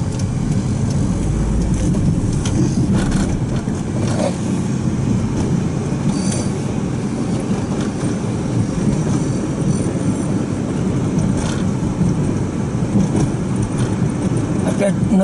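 A car pulling away and driving on, heard from inside as a loud, steady low rumble of engine and road noise, heaviest at the start, with faint rattles above.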